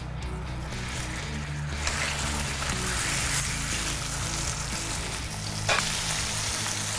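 Skirt steaks frying in a hot pan give a steady, close sizzle and crackle, with a low hum under it and one brief sharper spatter near the end.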